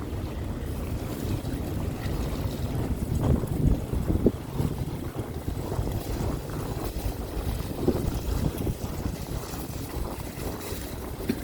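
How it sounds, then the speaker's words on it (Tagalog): Steady wind buffeting the microphone outdoors in a store parking lot, a continuous low rumbling roar with gusty swells and no talking. "Yan, may hangin na, oh."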